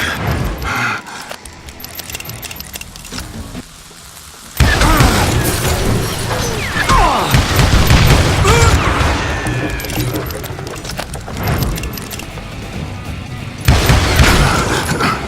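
A thrown stick of dynamite explodes in the Wild West shooter Call of Juarez: Gunslinger, with a sudden loud boom and debris rumble bursting in after a quieter stretch, then sustained crackling, and a second surge near the end.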